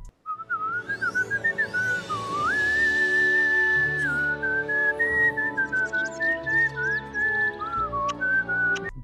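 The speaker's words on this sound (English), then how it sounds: "Robin doesn't know how to whistle, so the Titans decide to teach him." A cartoon character in a Teen Titans Go! episode whistles a long, wavering melodic tune, sustained and clear over a soft musical backdrop, with a few quick rising squeaks early on.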